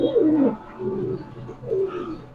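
Pigeons, among them imported fancy birds, give two low throaty coos one after the other, close and clear against quiet surroundings.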